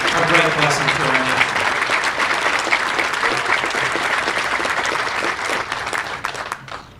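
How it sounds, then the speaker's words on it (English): A crowd at a Delaware veterans Memorial Day service applauds loudly for Rick Evans, sustained dense clapping that thins and fades near the end, with some faint voices mixed in. "could you give a round of applause to Rick Evans"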